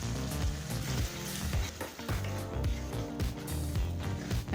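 Ground masala sizzles with softened tomatoes in a pan for Chettinad mutton curry, a busy close frying crackle with stirring bursts, mixed under background music.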